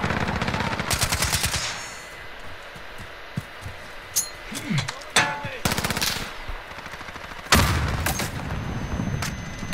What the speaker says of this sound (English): Oh, these flash grenades are annoying.